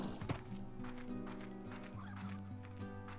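Farm fowl in the Slime Rancher video game give a quick run of gobbling, clucking calls, close and fairly quiet over a soft background hum.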